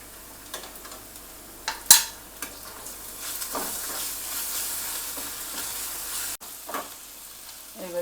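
Sliced onion fries with ginger-garlic paste in a pan, a steady close sizzle broken by scraping stirs and a few sharp clinks of the spoon against the metal.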